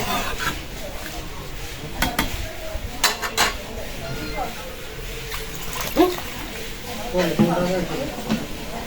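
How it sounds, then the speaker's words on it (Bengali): A metal lid clanks onto a cooking pot of thick duck curry with ground spices and coconut paste, with a few sharp clinks and scrapes of pots and utensils close by while someone talks. "ঢাকনাটা দিলাম"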